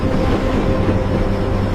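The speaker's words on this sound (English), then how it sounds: "as the train sped into the night" A train rolls steadily along the tracks at night, a continuous dense low rumble with layered rail noise and no clear break, loud and close throughout the short stretch.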